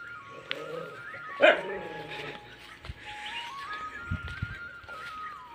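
Village dog letting out a short bark amid background talk and bird calls, with other faint sounds scattered across the rest of the stretch.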